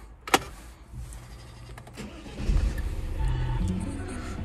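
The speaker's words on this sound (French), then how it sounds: "donc je vais allumer le véhicule" A Jeep Compass 1.6 Multijet II diesel (120 hp, six-speed manual) starts from inside the cabin: a sharp click comes first, then the engine catches about halfway through and settles into a steady, moderately loud idle.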